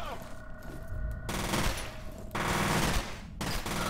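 Gunfire from a weapon in the video game F.E.A.R.: loud, sustained rapid-fire bursts fill nearly the whole stretch, with only brief breaks between volleys.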